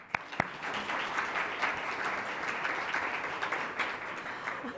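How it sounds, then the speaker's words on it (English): A room of attendees at a Columbus Metropolitan Club event applauds, steady, even clapping of moderate loudness that continues alone for the whole stretch after a couple of sharp opening claps. "I certainly believe that deserves a round of applause"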